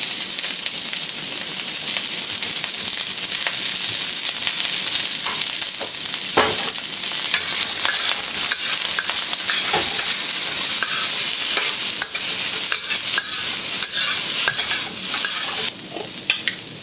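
Chopped onions and celery stir-frying in a hot pan, a continuous loud sizzle with scraping stirs and crackling pops throughout, no voices.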